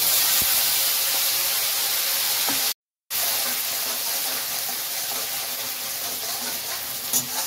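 Ginger and tomato paste hit hot oil with cumin seeds, raising a close, steady sizzling hiss that cuts out briefly, then carries on evenly with no voices.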